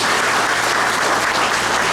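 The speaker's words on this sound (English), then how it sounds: "So please give Pam a round of applause." Steady, dense applause from a crowd at a junior police academy graduation in Jersey City, New Jersey, loud and continuous throughout with no talking over it.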